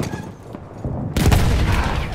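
Gunfire in Battlefield 1, a loud sudden burst of shooting and booms that cuts in halfway through and stays dense and heavy after a few quieter thuds.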